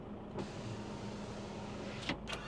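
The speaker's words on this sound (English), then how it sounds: "you can close this shutter" An electric bed shutter on a 2024 Nissan Navara Warrior runs with a steady low motor whir over a quiet hum, bracketed by a soft click at the start and a couple of brief thumps as it finishes closing.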